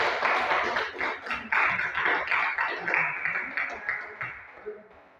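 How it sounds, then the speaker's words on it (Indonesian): Clapping from a class or gathering at an Islamic lesson on early preaching in Mecca, a close, busy patter of hands that swells in pulses and fades out at the end. "Bagus sekali ya, beri tepuk tangan."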